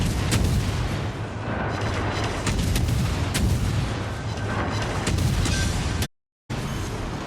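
Armor-piercing salvos from a battleship's main guns in World of Warships, a fast run of loud booming gunfire shots layered over rumbling, broken by a short dropout near the end.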